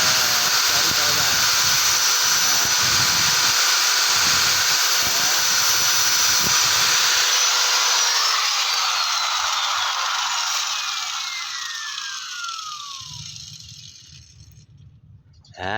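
An angle grinder cuts a roof batten with a loud, sustained high whine that holds steady, then slowly winds down and fades near the end.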